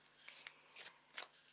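Oracle and tarot card decks are shuffled by hand in three quick, close riffling bursts, crisp papery flutters separated by short pauses in a quiet room.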